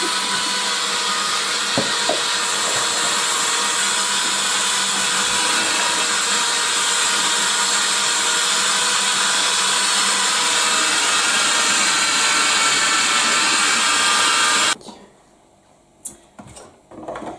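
Electric grater shredding carrots in a home kitchen, a steady loud whirring and rasping drone that runs continuously for about fifteen seconds, then cuts off abruptly, leaving quiet room sound with a few small knocks.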